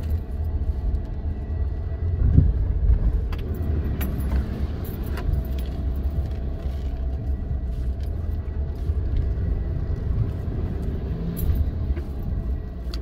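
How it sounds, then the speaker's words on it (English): Ford Maverick pickup driving off-road on a dirt trail with its tires slipping and catching, a steady low engine and road rumble with rattling and jangling from the cab, continuous and close. "I can just kind of feel it surfing back and forth as the tires are slipping and then catching and then slipping and catching"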